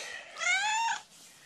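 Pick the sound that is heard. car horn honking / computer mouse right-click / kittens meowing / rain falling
kittens meowing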